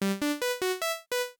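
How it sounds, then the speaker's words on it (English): A bright, buzzy default saw-wave synth in Serum plays six short notes in a simple stepping melody, each with a sharp attack and slight decay, heard alone. "default shapes, and select the saw wave"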